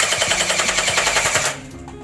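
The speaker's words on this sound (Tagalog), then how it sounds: "Ang lakas guys ng baril nila." Toy guns fire loud, rapid rattling bursts at close range as twins play, with a fast, steady machine-gun rhythm that cuts off abruptly and leaves a quieter tail.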